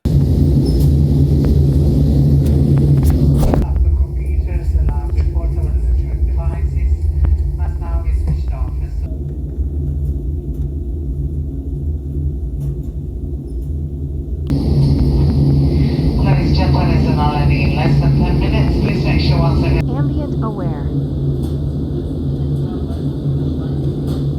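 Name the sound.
simulated airplane cabin ambient noise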